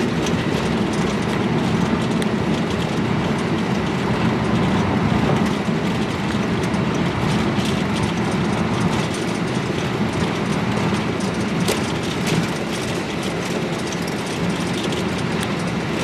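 Aircraft takeoff roll on a runway during a New Year's Eve flight in Antarctica, a loud, unbroken roar of engines and rumbling rolling noise that holds steady throughout.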